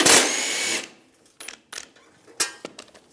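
A power tool with a 13mm socket spins out a bolt under the rear bumper of a 2007–2013 Chevrolet Silverado 1500, a brief loud whirring burst followed by scattered clicks and metallic clinks.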